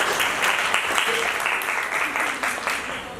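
An indoor audience at an environmental awareness seminar applauds in a loud, dense, continuous patter of clapping that fills the whole clip.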